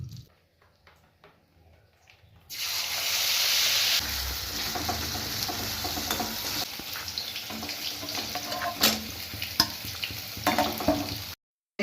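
Chicken frying in oil and butter for butter chicken, a loud steady sizzle that starts abruptly after a quiet moment and keeps crackling with occasional sharper pops close by.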